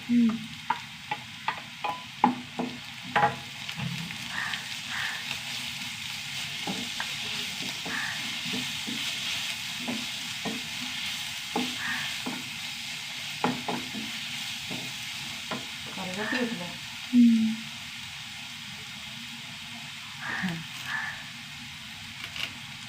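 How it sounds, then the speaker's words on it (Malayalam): Onions sautéing in a pan with a tablespoon of ground ginger-garlic paste, giving a steady sizzle with repeated spoon scrapes and taps against the pan throughout. "ഒന്ന് വഴണ്ട് പറ്റാട്ടോ നന്നായിട്ട് ഉള്ളിയൊക്കെ ഏകദേശം വഴണ്ട് വന്നു കേട്ടോ"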